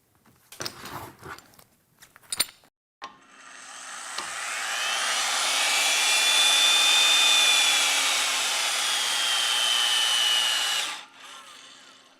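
An A325 structural steel bolt tensioned to 45,000 pounds with a power tool: a few knocks, then a loud steady whirring drone that builds and holds for several seconds before cutting off.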